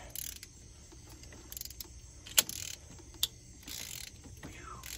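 A cheap socket ratchet turns a coolant temperature sensor on an 1987-91 Ford truck, giving faint clicking pawl sounds with a couple of sharper metallic clacks, close up against quiet background noise.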